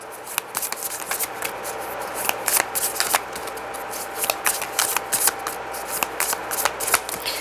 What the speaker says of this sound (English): I did bring Mother Mary's little cards with me. Let's see if I can get one without making a mess